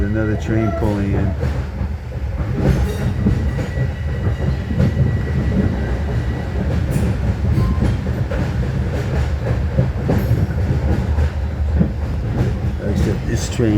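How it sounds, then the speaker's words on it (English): A New York subway train pulls into a station near Yankee Stadium, a loud, continuous rumble and clatter of wheels on rails, with someone talking over the noise. "See, there's another train pulling in."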